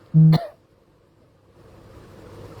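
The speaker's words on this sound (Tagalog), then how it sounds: "Kung pwede ko lang pigilan yung ubo ko" A single sharp, harsh cough bursts out near the start, followed by quiet low background rumble.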